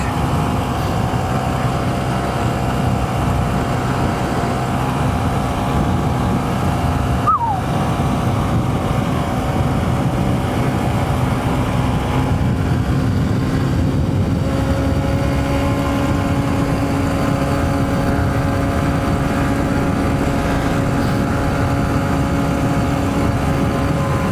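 2023 Honda CB125F motorcycle fitted with a Yuminashi 28mm throttle body cruising on a road, a steady loud engine drone with constant wind rush, the pitch holding level and shifting slightly partway through.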